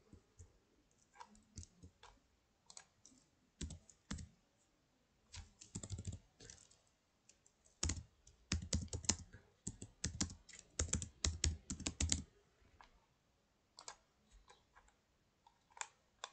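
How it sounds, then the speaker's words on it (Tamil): Typing on a computer keyboard while drafting in AutoCAD, heard as close, crisp key clicks in scattered bursts and quick runs with short pauses between, alone and fairly quiet. "நான் இங்கே டைப் பண்ணுறேன்."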